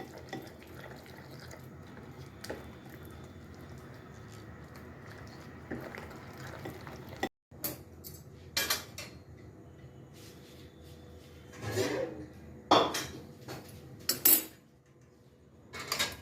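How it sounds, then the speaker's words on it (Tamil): Water running into a metal idli pot in a home kitchen, a low steady pour, followed by a few clanks and scrapes of plates being set inside, with quiet gaps between the metallic knocks. "இப்போ இட்லி பானையில் தண்ணி வச்சுட்டுருக்கேன்"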